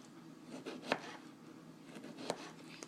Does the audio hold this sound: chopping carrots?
yes